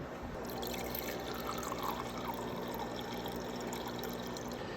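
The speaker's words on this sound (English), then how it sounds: "we're going to put some water in it for additional liquid." Apple juice and water pour steadily into a smoothie cup for the NutriBullet, a continuous gurgling liquid stream of moderate loudness with no talking.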